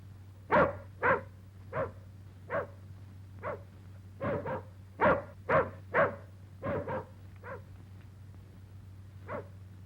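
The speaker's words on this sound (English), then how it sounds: "Is that your dog outside?" A dog barks repeatedly in short, irregular bursts, slightly distant, over a low steady hum.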